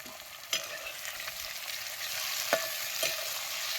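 Green peas, chopped tomato and green chilli frying in oil in a village kitchen, a steady hiss of sizzling with occasional sharp clicks of a spoon stirring against the pan.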